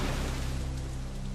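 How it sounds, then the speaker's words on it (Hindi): Heavy rain pours steadily as a drama sound effect, a dense, continuous hiss with no voices. "तेज बारिश होने लगी"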